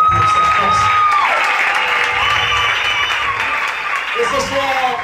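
Concert audience applauding and cheering in a large hall, sustained dense clapping and crowd noise under a voice talking over it.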